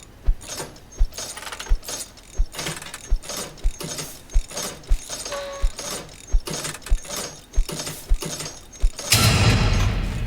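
Repetitive mechanical clicking and ratcheting from a generator being repaired in a video game, a steady train of sharp clicks about every half second, ending in a louder burst of noisy clatter.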